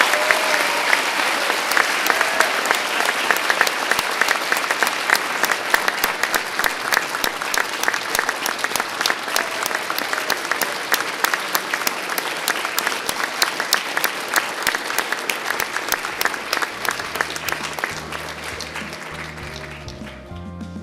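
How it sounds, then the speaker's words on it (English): Audience applause for graduates at a fire academy graduation ceremony, loud sustained clapping from a large crowd with sharp individual claps, tapering slightly near the end as low hum and noise rise. "one more round of applause for our graduates"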